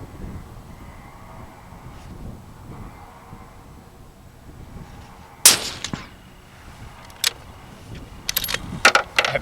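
A Ruger American Gen II Predator rifle in .223 fires during a long-range group competition, giving a sharp report midway followed by a few more spaced cracks and clatters near the end, over quiet outdoor background.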